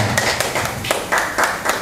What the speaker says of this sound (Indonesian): Sekali lagi kita kasih tepuk tangan yang meriah untuk Aditya.